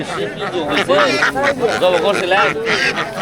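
Pekin ducks quack repeatedly at close range in a busy, overlapping chorus at a village market, with people talking over them.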